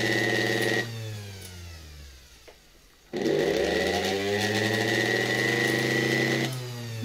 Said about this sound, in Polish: Wyżej już nie chcę napięcia podnosić, żeby ten silnik za bardzo się nie rozpędzał